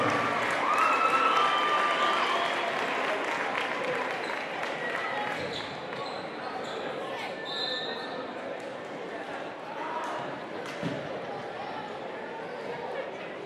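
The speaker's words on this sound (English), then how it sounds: "Big round of applause, everyone." Audience applause in a high school basketball gym at a Cottonwood versus Stansbury game, steady clapping with crowd noise and a few shouts over about thirteen seconds, with voices and court sounds mixed in.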